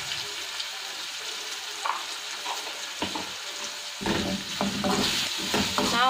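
Chili powder being stirred into soft-cooked gooseberries in a pan for pickle, with a steady low sizzle and scraping spoon strokes that grow busier and louder toward the end.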